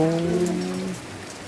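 Steady rain pours down in a rural Thai setting, an even hiss of falling drops that takes over after a brief low hum at the start.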